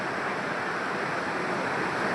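The Bhagirathi waterfall at Vangani near Mumbai, swollen in the monsoon, pours with a dense, steady roar that fills the whole moment at close range.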